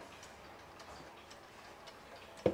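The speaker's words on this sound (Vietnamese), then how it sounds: "bây giờ em xin được thẩm âm chiếc đồng hồ này." An old mechanical clock with a gong striking train, heard ticking at an even, steady pace, close and faint, with a slightly louder click at the end and no speech.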